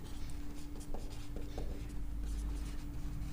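A pen or marker writes out a permutation and combination math solution, soft scratchy strokes in quick irregular bursts, faint and close with no talking.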